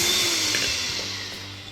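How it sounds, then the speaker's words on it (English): Constant whirring drone of an electric hand whisk mixing marble cake batter close by, steady and loud without pause, no voices. "use one of these hand whisks"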